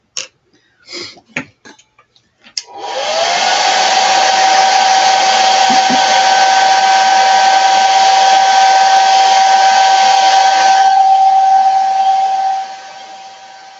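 A few soft clicks, then a dryer blasting air over an altered clipboard craft project decorated with Chalk Couture Peanuts designs switches on with a rising whine, holds a loud steady whooshing hum for about ten seconds, and stops.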